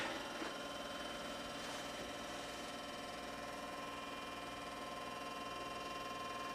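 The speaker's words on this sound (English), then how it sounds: "That rattling is the fan of the power supply." A computer power supply fan in a newly built PC hums with a faint, continuous mechanical rattle, steady and low in level with no voices over it.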